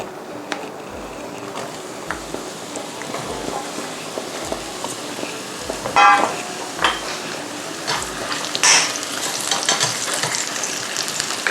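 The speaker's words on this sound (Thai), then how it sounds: "ใช้ไฟกลางนะคะ นำเห็ดลงไปผัดค่ะ" Mushrooms stir-fried in oil in a wok over medium heat for garlic mushrooms: a continuous sizzle runs throughout, with regular scraping stirs and occasional clatter of the utensil against the wok.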